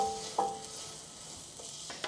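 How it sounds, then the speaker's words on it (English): Butter sizzling in a hot pan as a tablespoon is added alongside browned onions, a steady close crackle with a brief clatter near the start and another near the end, no talk. "So I'm just gonna add in this other tablespoon of butter."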